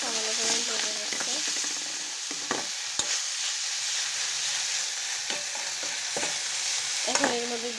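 Chicken noodles fry in a pan with salt, giving a soft steady sizzle broken by scraping stirring strokes, and a voice talks quietly over it.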